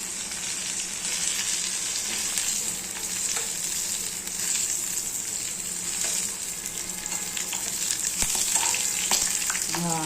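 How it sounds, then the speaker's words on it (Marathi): Spicy chilli fritters fry uncovered in an open pan of oil, a dense continuous bubbling sizzle with occasional pops and utensil clinks, close and fairly loud throughout. "असंच ओपनमध्ये आपल्याला हे फ्राय करायची आहे."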